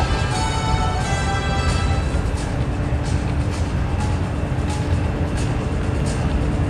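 A USAF C-17 Globemaster III's engines run up to power, giving a loud, steady, unbroken roar that holds throughout.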